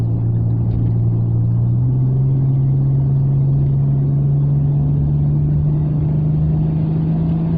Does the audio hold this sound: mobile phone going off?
no